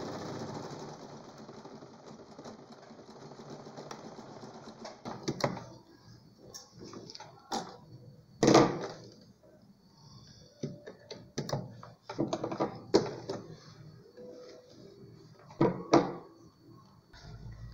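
A sewing machine runs a zigzag stitch into denim jeans for a patchwork rug, with a soft, steady mechanical hum followed by intermittent clacks and knocks from fabric handling, fairly quiet overall.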